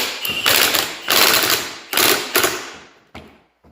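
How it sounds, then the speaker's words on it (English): A nut is tightened on a Polaris engine during a rebuild, a few close ratcheting bursts with sharp mechanical clicks and thuds, then fading to quiet. "We're going to tighten up this nut."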